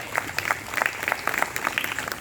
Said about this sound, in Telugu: గట్టిగా చప్పట్లు కొడితే మళ్ళీ అంతా వినబడేటట్లుగా చప్పట్లు కొట్టాలి